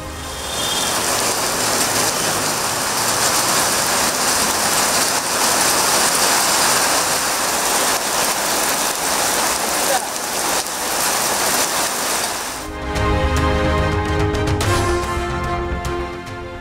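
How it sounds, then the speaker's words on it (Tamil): Heavy rain pours steadily in Ramanathapuram, a loud dense hiss of drops on surfaces. Near the end it gives way to a different, more tonal background. "ராமநாதபுரம் மற்றும் சுற்றுவட்டார பகுதிகளில் காலையிலிருந்து கனமழை."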